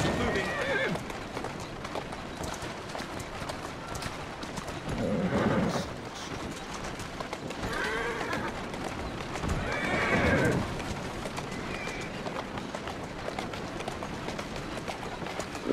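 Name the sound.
horse hooves and neighing in Assassin's Creed Syndicate video game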